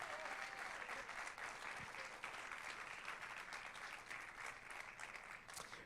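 Steady applause from a church congregation at a Spanish-language worship service, dense and sustained clapping filling the room at a moderate distance, with no voices on top.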